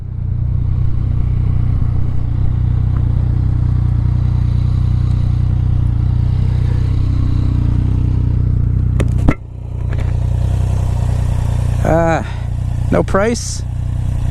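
A Suzuki Gixxer idles with a steady low engine drone while its rider practices wheelies by working the clutch and throttle. The drone breaks off briefly and then returns with a few short rising revs as a voice talks over it.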